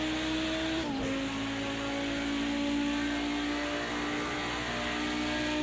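An Audi Group B Quattro racing engine in Project CARS 2 at Bathurst drones at high revs, dipping sharply with a missed shift near the start, then holding a steady, loud whine.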